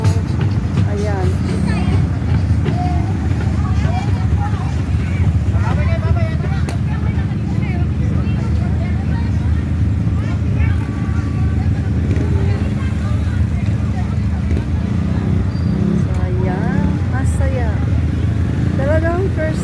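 Motorcycles with their sidecars removed, kolong-kolong tricycles and a few pickups roll through a village fiesta parade at Barrio Santo Niño, their engines a steady blended drone with wind buffeting throughout and chatter mixed in.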